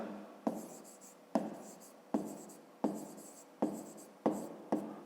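A pen writes on paper in six or seven distinct strokes, each a sharp scratchy onset fading quickly, close and quiet, a steady rhythm of separate marks with no talk over them.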